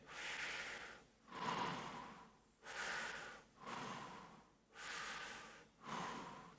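Slow, deliberate breaths drawn in through the nose, five or six long hissing inhales separated by brief quiet gaps, close and soft with a steady rhythm.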